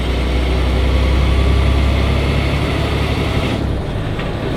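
A heavy truck engine drones loud and low, pulling steadily under load as it works through gears, a continuous close rumble that eases slightly near the end.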